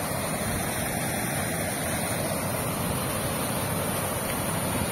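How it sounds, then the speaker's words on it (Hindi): A steady, powerful roar of water gushing out of Pansua Dam in Sonua, West Singhbhum, Jharkhand, loud and continuous throughout, with no voices. "कैसे पानी निकल रहा है अंदर से"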